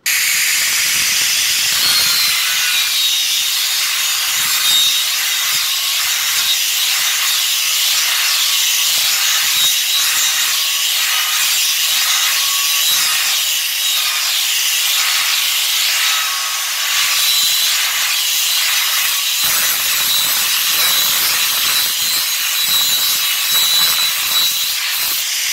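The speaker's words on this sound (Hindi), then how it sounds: "अभी इसको मारेंगे अपन 0 नंबर, जिससे ये थोड़ा रफ है तो वो थोड़ा सा पॉलिश आएगा इसको" A power tool with a number 0 abrasive polishes a rough granite moulding, giving a continuous loud, harsh hiss and grind with rhythmic rubbing swells. It sounds close and lasts about twenty-five seconds without speech.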